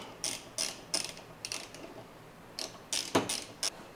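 Screws being driven back into a truck tailgate while a tailgate mat is fitted, heard as short clusters of faint ratcheting clicks with pauses between, fairly quiet and close, with no speech.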